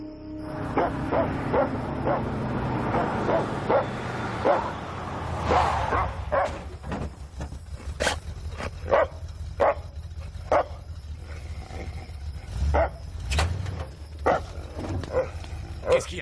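A dog barks repeatedly in loud, sharp bursts with uneven spacing, mixed with higher whimpering and yelping cries, fairly close and mostly without talk.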